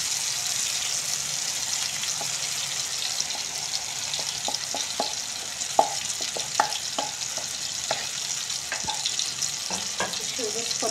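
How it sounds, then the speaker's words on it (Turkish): A mixture poured over tomatoes frying in a pan sets off a steady loud sizzle, with scattered clicks and light scraping from stirring on top of the hiss. "Hazırlamış olduğum harcımı domateslerimin üzerine ilave ediyorum."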